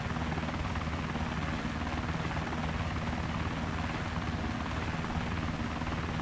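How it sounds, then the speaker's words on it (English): Helicopter in the survival video game DayZ Epoch, a loud steady rotor and engine drone that stays constant throughout without any speech. "Someone is in here with a helicopter."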